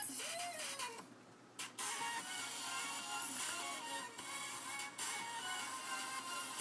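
A sewing machine whirs in a steady close-up run while stitching linen pants to taper the legs, with a couple of brief pauses in the mechanical drone.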